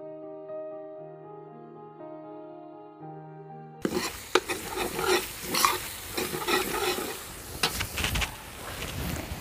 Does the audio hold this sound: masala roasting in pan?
yes